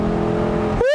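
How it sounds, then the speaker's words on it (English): A 2021 Lexus LC500 Convertible's engine revs, a loud, close, rich drone that holds steady and then swings up sharply in pitch near the end, with no talk over it. "I can't get over this engine. It's just so intoxicating sounding."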